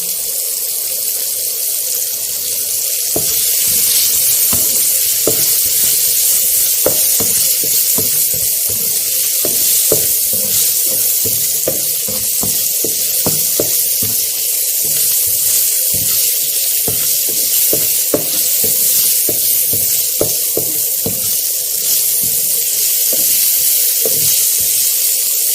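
Vegetable stalks sautéing in a pan for a Bengali moong dal, a loud continuous hiss and sizzle with frequent sharp crackles and pops over the whole stretch.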